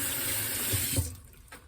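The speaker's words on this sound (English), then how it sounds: "Let me rinse my hands off here." Tap water running over hands at a kitchen sink, a soft steady splashing rush that cuts off abruptly near the end, leaving a faint drip.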